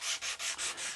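Sandpaper rubbed by hand over a guitar body during finishing, five steady back-and-forth strokes in an even rhythm, close and fairly quiet with no voices.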